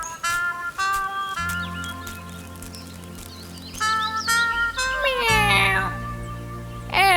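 An old cat in an animated Hindi children's story meows in a few rising and falling cries, set over background music and cartoon effects.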